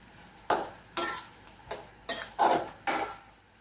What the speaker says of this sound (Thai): อันนี้ผัดไปเรื่อย ๆ จนให้เส้นนิ่มนะคะ